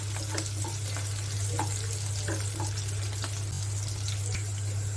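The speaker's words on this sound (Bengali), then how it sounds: "পেঁয়াজ আর কাঁচা মরিচ গুলো আমি কিছুক্ষণ ভাজবো।" Chopped onions and green chillies fry steadily in oil and ghee in a pan, a soft continuous sizzle with faint occasional stirring clicks and a low steady hum underneath.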